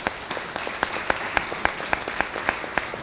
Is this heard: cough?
no